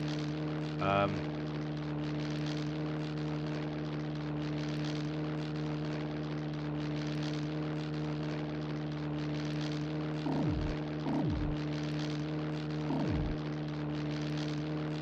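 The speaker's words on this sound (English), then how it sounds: "Squadron leader Whitehurst takes you through a quick course on flying a combat aircraft" A WWI-era combat plane engine in the PC flight game ACM 1918 drones steadily throughout, with a brief chirp early on and a few falling whistle-like tones near the end.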